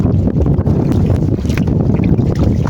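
Wind buffets a boat out on the open sea, a steady, loud roar of gusts battering the microphone continuously, with no voices heard.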